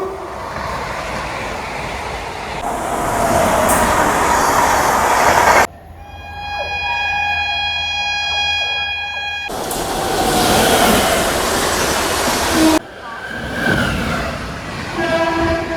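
Saharsa–Mumbai LTT Amrit Bharat express train pulling into a station, with loud rolling wagon rumble, a long sustained harmonic horn blast in the middle, and continuous rail noise before and after.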